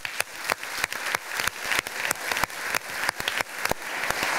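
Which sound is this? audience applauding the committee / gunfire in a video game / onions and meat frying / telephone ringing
audience applauding the committee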